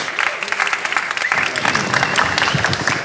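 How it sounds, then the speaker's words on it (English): Crowd applause for a startup pitch at a sustainability conference in Copenhagen, brisk and even clapping from many hands, fairly loud and steady throughout the few seconds. "Please give a big applause to Zupply."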